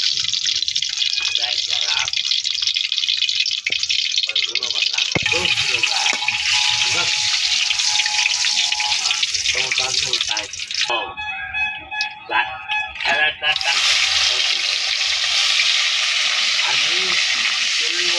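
Dried red chillies frying in hot oil, a loud continuous hiss and sizzle close by that drops away briefly near the middle before returning at full strength.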